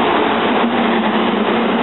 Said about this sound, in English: 171, 172, 401, and 413 all taking off.